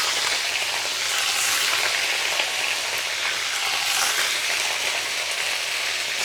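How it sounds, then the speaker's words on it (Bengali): Crab frying in hot oil with bay leaf and panch phoron, a steady, loud, dense sizzle and crackle like heavy rain, continuous and close with no voices. "এখন এই তেলের ভিতর দিয়ে দেবো কাঁকড়া"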